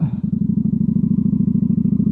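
Kawasaki VN900 Vulcan motorcycle engine idling close by, with a steady, loud, lumpy low throb of rapid even pulses and no voices.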